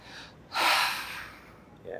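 A single forceful exhale blown out hard through the mouth while the core is held tight, a loud rushing breath lasting about a second, with a quieter short breath following near the end.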